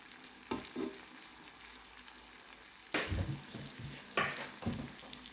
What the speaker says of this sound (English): Maybe leave it there to fry for 1 minute.